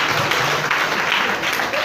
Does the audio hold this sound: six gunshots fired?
no